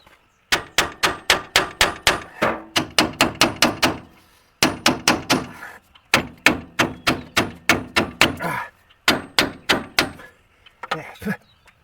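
Sharp, ringing hammer blows strike metal in rapid bursts while fixing a car's driveline vibration, several runs of quick clangs separated by short pauses, close and loud.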